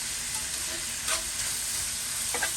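Roasted garlic browning in a cast iron skillet gives a continuous bright, close sizzle, with a few faint stirring scrapes and no talk.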